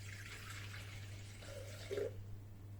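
Water, 430 g of it for baguette dough, runs into a bowl set on a kitchen scale in a soft, steady, close trickle lasting a couple of seconds, with a brief fuller splash near the end.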